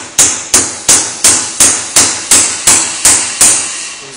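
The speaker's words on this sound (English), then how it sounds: "Use the hammer. Hammer it on the rim." A hammer strikes a wheel weight onto a tire rim on a tire machine, eleven sharp metallic blows in an even, steady rhythm, loud and close with short decays between hits.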